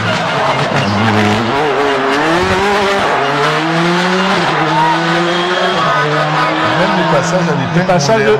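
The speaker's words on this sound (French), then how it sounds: "En entrée de courbe, il est en motricité, donc en reprise de gaz, et il finit son épingle toujours en reprise de gaz." A rally car at the 40th Rallye des Grands Fonds powers out of a hairpin on the throttle, its engine loud and close, rising in repeated revving sweeps through gear changes with tire scrabble, while a commentator talks over it.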